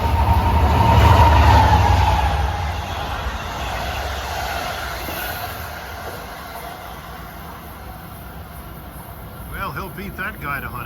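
A Long Island Rail Road commuter train bound from Long Island City to Port Jefferson passes through Westbury station on the triple track at evening rush hour. A loud, broad rumble swells early, then eases into a steady roar.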